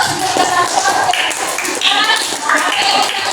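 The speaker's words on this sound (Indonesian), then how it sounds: "Tepuk tangan dulu." Classroom applause during a peer-teaching session, a dense patter of hand claps from a group of students that runs steadily throughout, with voices mixed in.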